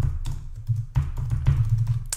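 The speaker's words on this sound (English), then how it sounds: "we're gonna type in network engineer" Computer keyboard keys tapped in short irregular bursts, a close, light clatter of typing with brief pauses between strokes.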